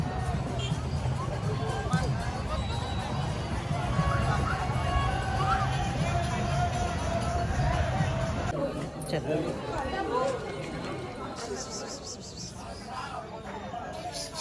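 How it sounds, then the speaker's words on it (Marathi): Dense crowd at a riverside temple on the Ganga in Nashik, a steady babble of many voices close around, with people talking nearby throughout. "इकडे खूप जास्त गर्दी आहे"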